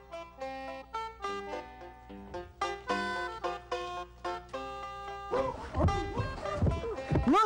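A dog barks in a PlayStation game, Write Away, with a short burst of yapping near the end after bright, tuneful game music.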